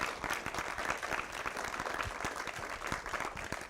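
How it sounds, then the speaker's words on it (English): Audience applause for Tom at the close of a creative engineering masterclass, a steady, moderately distant patter of many hands clapping throughout with no voices over it. "Maybe give Tom a nice round of applause"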